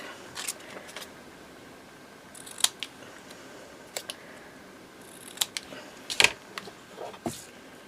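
Scissors snip through paper scraps while handmade ephemera is trimmed, producing sparse, crisp cuts spread across a quiet background with no talk.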